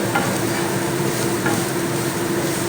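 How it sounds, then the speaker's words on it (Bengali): Soya chunks fry in a pan with a steady, loud, close sizzle that runs without a break, plus a couple of faint stirring scrapes, with no talking. "সয়াবিনগুলো ভাজা হয়ে গেছে তুলে নেব"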